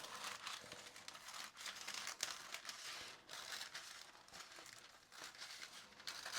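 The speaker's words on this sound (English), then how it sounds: "so we are going to cut. That's why I got my scissors." Sheets of Canson XL translucent sketch paper are cut with scissors, giving faint, close crinkling and snipping with soft irregular crunches and rustles, and no voices.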